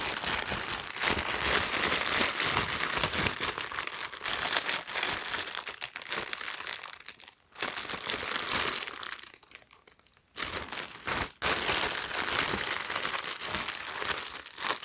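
A plastic bag crinkles as a cap is unwrapped from it, the crisp rustling close and nearly continuous, broken by two short pauses of near silence before resuming.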